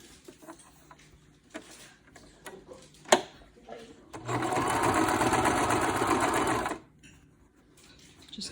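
Sewing machine stitching a seam on a fabric face mask, a sharp knock and scattered handling clicks leading into a steady, fairly loud whirring run of about two and a half seconds, then quiet fabric rustling.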